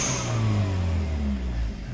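Hyundai Elantra N engine revving with an HKS SQV sequential blow-off valve fitted, a loud close rev with a rising and falling engine tone over about two seconds, no talk.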